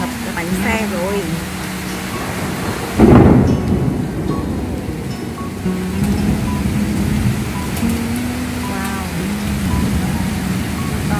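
Heavy rain and thunder during a storm over a flooded street in Hanoi, Vietnam, with a loud thunderclap about three seconds in over a steady downpour while people talk throughout.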